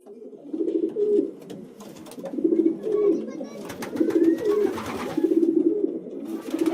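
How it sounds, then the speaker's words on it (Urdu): Several pigeons coo in repeated soft, rolling phrases, close and steady, with faint chirps and background noise around them. "یہ کبوتر کی آواز ہے، کبوتروں کی آواز ہے، زیادہ کبوتر ہیں۔"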